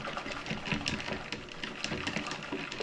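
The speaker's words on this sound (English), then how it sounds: "To be a little aggressive with the whisking so that I break up all of that gelatin in there." Gelatin mixture being whisked aggressively in a bowl for a 1920s-style Bavarian cream, a steady rapid clatter of whisk strokes filling the clip at close range with no talk.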